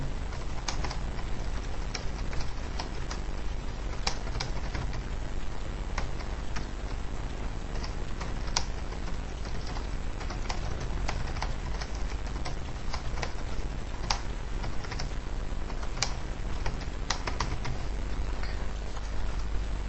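Steady computer keyboard typing, a run of quick, close keystrokes that goes on without pause and without any voice, entering a new topic in a collaboration platform.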